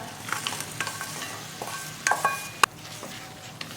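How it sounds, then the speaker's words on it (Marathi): Chopped jaggery melting in ghee in a kadhai as it is stirred, a soft sizzle broken by the clinks and scrapes of a spoon against the pan and one sharp knock near the end. "गुळाला चांगलं असंच ढवळत राहायचं, नाहीतर गुळ खाली करपतो."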